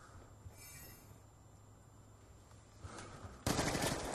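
Train wheels in the Black Ops 2 video game give a faint, steady metallic rumble and high squeal, which ends abruptly in a loud burst of gunfire.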